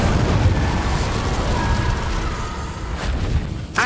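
Incendio fire spell cast in Hogwarts Legacy on PS5, a rumbling burst of flame that swells and rolls on for a few seconds, with a sharp flare near the end, heard alone without talk.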